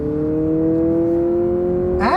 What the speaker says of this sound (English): This has a dual exhaust on it, and it really makes a good sound.